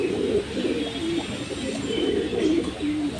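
Racing pigeons coo in a loft, several soft, rolling throaty calls overlapping close by in a steady rhythm.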